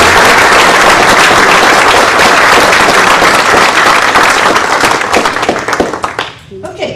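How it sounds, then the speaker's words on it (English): Loud, sustained applause from a crowd at a congressional district public forum, dense clapping that tapers off near the end as voices begin to come through. "Let's give them a round of applause."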